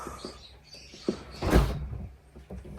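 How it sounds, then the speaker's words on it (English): A Tesla Model Y car door opens with a soft latch click and a brief thud, followed by quiet handling sounds, close by with no talking. "So we open the door"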